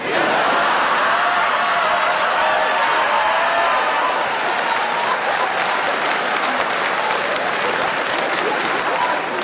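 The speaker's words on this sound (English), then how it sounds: "even though you're clapping and you're cheering" A comedy club audience breaks into dense, loud applause with cheering mixed in, a continuous wash of clapping that holds steady throughout.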